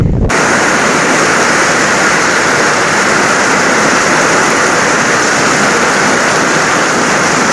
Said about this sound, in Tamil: அப்படியே காற்று ரொம்ப பயங்கரமாக அடிக்குதா